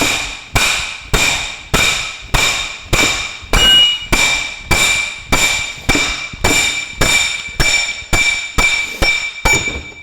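Steady, evenly spaced hammer blows on a Ferguson TE20 tractor's hydraulic lift cover, about fifteen loud ringing metallic strikes each with a short decaying clang, close up with no talk.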